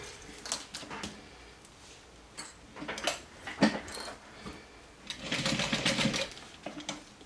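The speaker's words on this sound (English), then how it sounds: "sew right on top of your stitching on the other side, or you can just go wild like I am right now and sew both at the same time" Sewing machine stitching through layers of fanny pack fabric in several short bursts, the whir starting and stopping, with a longer, louder run near the end; no talking.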